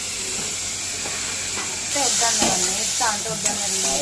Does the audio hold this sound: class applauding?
no